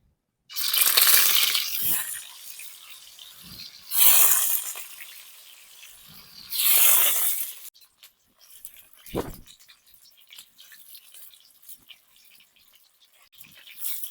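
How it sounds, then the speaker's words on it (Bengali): Pieces of soybean paneer dropped into hot oil sizzle loudly in three bursts, each hissing then fading, followed by quieter crackles and a few soft knocks. "পনিরগুলো আস্তে আস্তে করে ভেজে নেব।"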